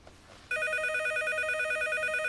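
Telephone bell ringing indoors in a drama scene, a sharp electronic ring that starts abruptly after a brief quiet moment and continues loud and steady, warbling in a regular pulsing pattern with no voices over it.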